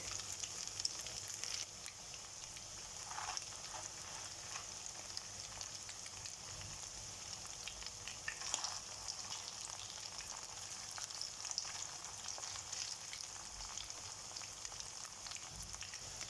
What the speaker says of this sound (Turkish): Kızaran köftelerimizi birer birer çeviriyorum.